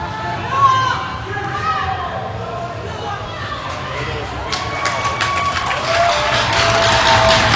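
A youth hockey game crowd cheers and shouts, then bursts into sharp, dense applause that builds toward the end, while a commentator talks over the noise.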